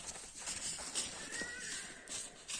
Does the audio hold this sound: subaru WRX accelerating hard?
no